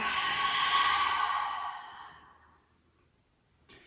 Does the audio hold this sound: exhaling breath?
yes